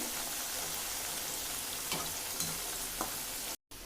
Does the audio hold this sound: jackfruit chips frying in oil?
yes